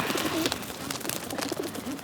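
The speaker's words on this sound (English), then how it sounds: "They're pigeons, mate. They want food." Pigeons coo nearby in soft, repeated throaty warbles over a low background hum, with several overlapping calls across a couple of seconds.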